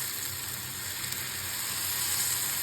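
Dosa batter sizzles on a hot pan in a home kitchen, a steady, crackling frying hiss that holds evenly throughout, with no talk.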